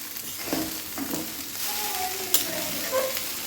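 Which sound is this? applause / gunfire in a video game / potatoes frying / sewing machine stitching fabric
potatoes frying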